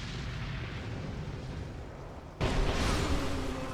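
An enemy's explosion attack in Dark Souls 2 bursts into a loud, broad boom partway through, cutting sharply over a steady rumbling game background and holding a dense roar afterward.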